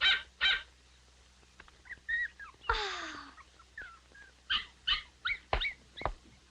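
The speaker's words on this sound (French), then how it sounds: "Le gros chien blanc, c'est Belle" Dog heard in a vintage 1980 TV episode: a series of short barks and whimpering yelps, some close and sharp, others softer, with bird-like chirps scattered between.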